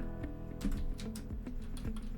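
Keystrokes on a computer keyboard while entering a name into a Python input prompt, a quick irregular patter of clicks heard up close and fairly soft, with no speech.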